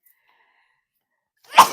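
A single loud, close sneeze bursts out after near silence, short and sharp with a brief trailing breath.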